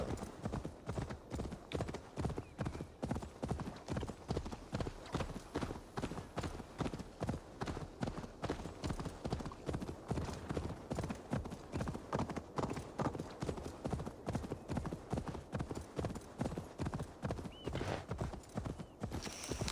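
Hooves pound in a fast, steady galloping rhythm throughout, with a brief horse whinny partway through, from a horse in the video game Assassin's Creed Valhalla.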